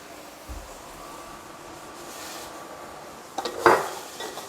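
A spoon scrapes and clanks against a pot of cooked ground beef during home canning prep, faint quiet stirring followed by a louder cluster of metallic knocks near the end, with no talk.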